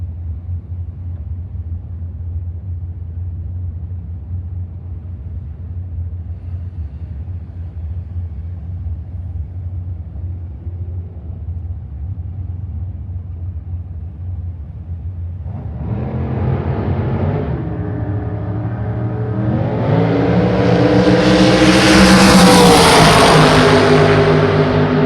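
Super Comp drag race cars, a 2015 Racetech chassis and a 2003 Yancer, idling with a low rumble, then engines revving loudly and roaring up to a high-pitched, close-up launch.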